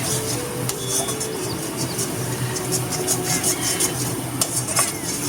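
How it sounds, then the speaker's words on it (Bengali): Turmeric and Kashmiri chili powder masala being stir-fried in a pan, with steady close scraping and stirring over a soft continuous sizzle and occasional utensil clinks, no voices. "এবারে মশলাটা ভালো করে কষতে হবে।"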